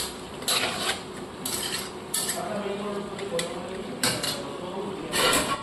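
Peas and paneer are sautéed in a pan, with repeated metallic scrapes and clinks of a spatula against the pan over a low background sizzle.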